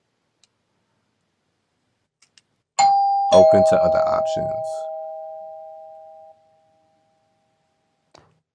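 A single doorbell chime rings out clearly, a sustained two-tone ding that decays over about three seconds, with a person talking over the start of it.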